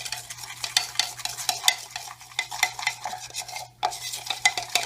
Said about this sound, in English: add just a little bit of the oil mixture so we can get it uniformly mixed